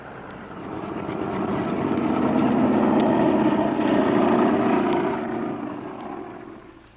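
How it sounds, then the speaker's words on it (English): Airliner engines roar steadily as the plane taxis and takes off, a radio drama sound effect; the drone swells louder through the middle, then begins to fade toward the end. "Rapidly, the graceful airliner taxied down the runway and was soon climbing skyward."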